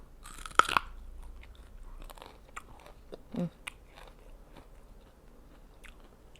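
Close, crisp crunching and biting of raw vegetables eaten with bitter gourd, scattered crunches and chewing at a low level over a quiet background.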